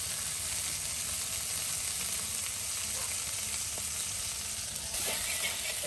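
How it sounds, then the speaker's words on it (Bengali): Fish pieces fry in oil in a pan, a dense continuous hiss and sizzle that stays loud and close throughout, with faint stirring and no talking. "দেখুন কত সুন্দর করে মাছগুলো বেজে নেওয়া হচ্ছে, মাছের টুকরাগুলো।"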